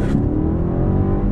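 A 2019 BMW 750i 7 Series accelerates hard, its loud engine note rising steadily in a strong, continuous roar heard from close by inside the car.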